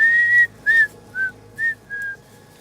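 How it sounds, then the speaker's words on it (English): A person whistles a tune, five clear melodic phrases with short gaps between them, close and solo with no talking. "You're so good at whistling."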